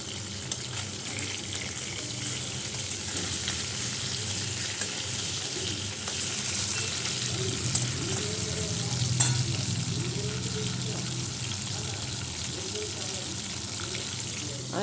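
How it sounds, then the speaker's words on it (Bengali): Fish frying in oil in a home kitchen pan: a steady, moderately quiet sizzle runs throughout, with faint clinks and a brief trickle of water, and a voice talks softly in the background. "এই যে মাছগুলো ভাজা বসিয়েছি"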